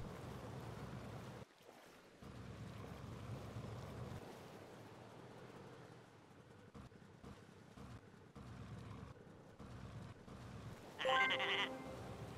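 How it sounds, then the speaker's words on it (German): A sheep bleating in the video game Summer in Mara, one brief bleat near the end over soft ambient wave-like background sound. "Und ein Schaf mehr. Juhu!"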